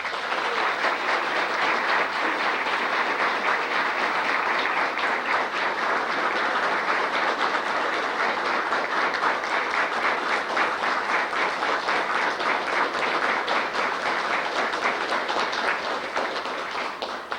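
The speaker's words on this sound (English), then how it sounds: "A rousing applause for Congressman Jim Trafficant." A large audience at a political gathering breaks into sustained, rousing applause, a thick, even rattle of many hands clapping without pause and tapering only at the very end.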